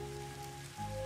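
Video game rain hisses as a soft, steady patter with faint tonal hums underneath, growing slightly louder near the end, with no voices.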